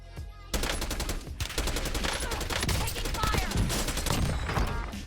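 Dense rapid gunfire in the Warzone video game, rattling bursts of automatic shots that start abruptly after a brief quiet moment and continue loud and close without pause to the end.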